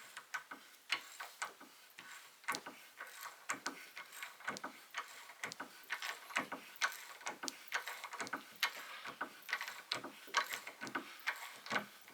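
A Bonney TT707 3/8 inch ratchet wrench tightens a nylock nut onto a bolt clamped in a vise, rapid close clicking of the pawl in quick irregular bursts with no talk.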